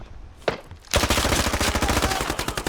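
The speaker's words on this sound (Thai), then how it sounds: "เมื่อกี้เราโดนยิงจากไหนไม่รู้นะครับ" Heavy, rapid automatic gunfire in the tactical shooter game Squad bursts in loud and close after a single earlier shot, then continues in a sustained rattling stream.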